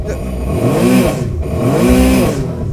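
Jet ski engine revving while the craft is flushed out of the water, two loud swelling rev cycles close by that rise and fall in pitch.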